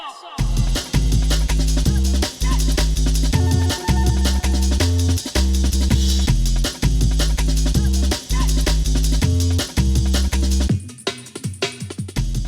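Loud, driving jungle drum and bass drop: Think breakbeat drums over a heavy, pulsing sub-bass line, the full mix pounding along before briefly thinning out near the end.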